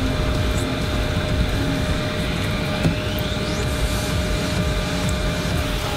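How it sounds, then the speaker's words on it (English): An airliner taxis toward the runway before takeoff on a flight to Amelia Island, Florida, heard from the cabin as a steady low engine rumble with a constant airy hiss throughout. "we're taxiing down, getting ready to take off"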